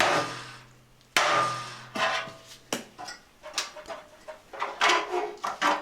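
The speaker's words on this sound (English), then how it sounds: "And then just tapped it off and used the chisel." Hammer tapping a chisel against the metal lower front panel of a Talbot Express camper van, sharp metallic clinks, several loud isolated strikes and then quicker, irregular tapping, close up.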